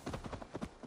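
Rapid rhythmic hoofbeats of a galloping horse in the video game Assassin's Creed Valhalla, quick repeated thuds over about a second at low volume.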